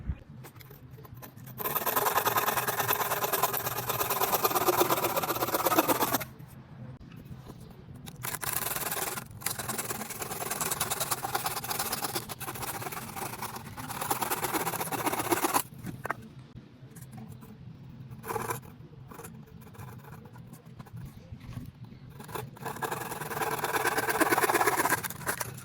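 Wooden pallets being cut up for boards: long stretches of loud, rough rasping and grinding from a cutting tool, broken by short quiet gaps and scraping as pieces are repositioned.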